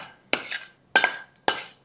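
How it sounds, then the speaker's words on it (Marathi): A spoon mixing a warm jaggery and ghee mixture into dried fruits in a metal bowl, three distinct clinking scrapes at an even pace, close and alone. "हलकंसं गरम आहे, त्यामुळे चमच्याच्या साह्यानेच मिसळून घ्यायचं."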